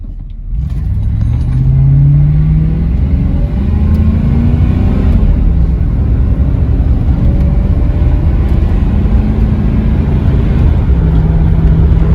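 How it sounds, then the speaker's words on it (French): A car engine revs and accelerates up through the gears, a loud, close rumbling drone with rising and falling pitch and no talking. "le moteur tourne très bien"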